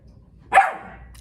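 A dog gives a single sharp, loud bark close by, which fades quickly into quiet.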